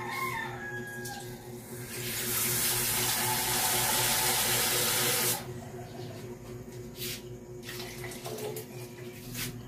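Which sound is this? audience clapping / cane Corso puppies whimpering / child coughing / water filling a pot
water filling a pot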